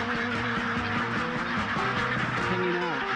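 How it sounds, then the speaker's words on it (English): A large flock of ducks or geese crowds close together in Vietnam's Phong Nha area, a dense, continuous chorus of overlapping honks and quacks, loud and near, with no talk. "And I hear an army of ducks."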